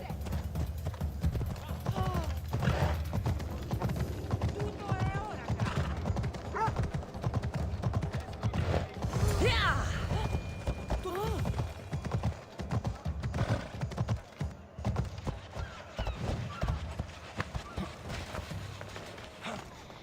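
Rapid clip-clop of a horse galloping in Assassin's Creed, steady hoofbeats running under frequent talk and game voices, with a short whinny partway through.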